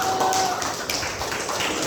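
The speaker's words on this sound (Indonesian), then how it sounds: "beri tepuk tangan untuk" A school class gives a brief round of clapping during a religion lesson, a steady patter of many hands at moderate loudness.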